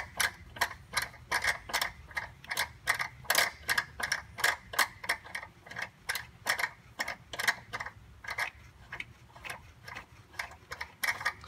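A tap cuts threads into a 10 mm hole on a Honda Civic, making close, steady ratcheting clicks in an even rhythm of many quick ticks with no voices.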